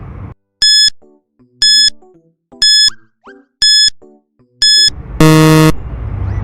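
Quiz countdown timer: five evenly spaced bright electronic beeps about one second apart, each followed by short bouncy blips, ending in a loud sustained buzzer tone.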